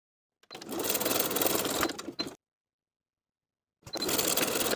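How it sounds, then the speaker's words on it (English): A sewing machine stitches in the ditch along a side seam to hold a pajama garment facing in place, running in one close, loud burst of nearly two seconds, falling silent, then starting again for another steady run. "I'm going to stitch in the ditch, stitching right inside the seam to secure the facing in place on the inside"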